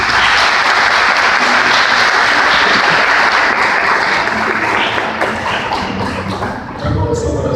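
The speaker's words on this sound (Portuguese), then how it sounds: "Vamos aplaudir a palavra de Deus." A church congregation applauds during a sermon, producing dense, sustained clapping that fills the space and then tapers off slightly near the end.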